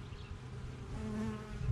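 Bees hum in a low, steady buzz around new colonies, close and continuous, with no voices.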